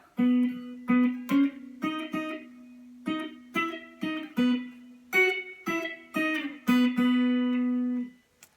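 A guitar plays a short outro riff of plucked octave notes after the chorus of a song, some repeated, in a quick uneven rhythm, closing on a sustained ringing note.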